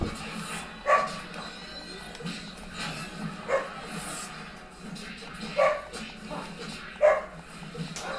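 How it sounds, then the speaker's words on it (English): A pet dog barking indoors, several sharp, separate barks spaced a second or two apart over a quiet, hushed background, somewhat distant. "My dog is barking, you guys."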